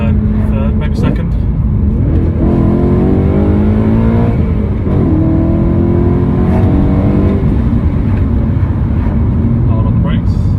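A BMW E92 M3 with a naturally aspirated engine accelerates on a country road, loud and close from inside the cabin, rising through the revs, easing off, then climbing again while someone talks over it.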